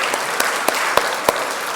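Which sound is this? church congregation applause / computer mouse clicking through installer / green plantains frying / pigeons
church congregation applause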